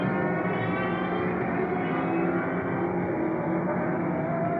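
An Ascari sportscar at a 2001 FIA Sportscar Championship round at Donington heads for the checkered flag, its engine droning loudly and steadily at high revs.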